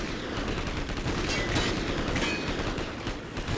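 Turret gunfire in Call of Duty: Ghosts pours out as a dense, continuous stream of loud shots with booming bursts layered over it, filling the whole moment with no voices.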